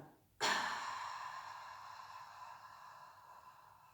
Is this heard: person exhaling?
yes